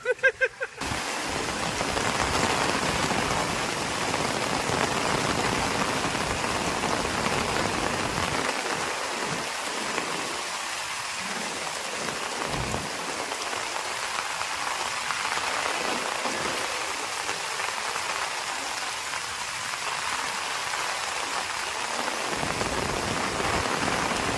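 Steady rain falls on rice paddy fields in a dense, even hiss that carries on for the whole stretch, with a few faint knocks at the very start.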